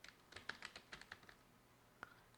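Soft, fairly distant keystrokes on a computer keyboard, a quick burst of about a dozen taps followed by a pause and one final key press.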